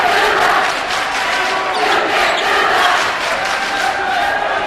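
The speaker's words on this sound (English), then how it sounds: "the louder the Windsor crowd gets" Loud Windsor crowd cheering and roaring at a high school basketball game, a dense, sustained wall of voices filling the gym with no break.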